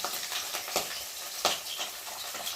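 Pieces of pabda fish frying in hot oil in a pan, a continuous crackling hiss with a few sharper spatters and stirring scrapes, close and fairly loud, without talk.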